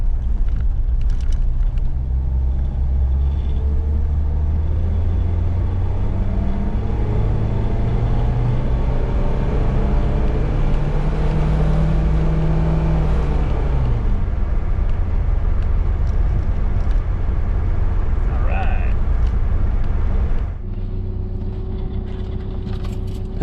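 Pontiac car on a test drive, heard from inside as a steady low engine and road rumble that runs continuously, with shifting engine pitch and a drop in level near the end.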